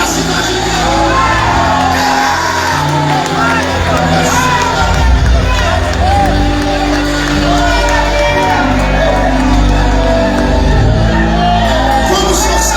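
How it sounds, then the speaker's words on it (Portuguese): A crowd at a church revival meeting in Olímpia shouts loudly and continuously, with overlapping yells, whoops and cheers forming a dense, sustained roar throughout. "dá um grito agora, naquela altura, para acordar a cidade inteira"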